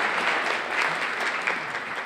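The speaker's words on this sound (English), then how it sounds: "give yourself a round of applause" An audience at a poetry event gives itself a round of applause, with dense, continuous clapping at a steady moderate level and no voices on top.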